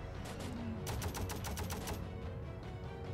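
A Tommy gun fires in a cartoonish carnivore-themed video game, with a quick run of rapid, evenly spaced automatic shots in one short burst, fairly quiet against a steady game background hum.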